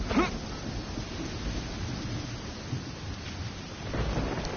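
Steady rain hisses through a stormy scene in the video game Genshin Impact, with low rolling thunder rumbling underneath and a brief louder swell near the end; no one speaks.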